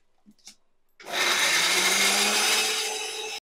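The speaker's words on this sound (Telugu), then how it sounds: "ఇది ఒకసారి మిక్సీ పెట్టేద్దాం." A kitchen mixer grinder roars into a steady high whir, blending chilli, ginger, garlic, cumin and coriander powder, running loud for over two seconds before cutting off abruptly, preceded by a few soft handling taps.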